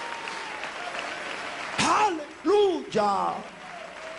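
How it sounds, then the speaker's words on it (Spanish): A church congregation applauding in praise, a steady wash of crowd clapping under loud shouted voices of worship. "Ponte de pie y dale ese aplauso de alabanza a Jesús."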